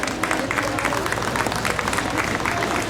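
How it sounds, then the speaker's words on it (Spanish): Steady, dense applause from a crowd greeting María del Rosario Morales, the new Ixkik Uk'ux K'iche', at her ceremonial entrance, loud and sustained throughout with faint voices mixed in. "con fuertes aplausos le damos el ingreso a María del Rosario Morales"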